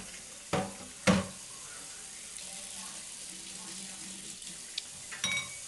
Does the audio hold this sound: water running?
yes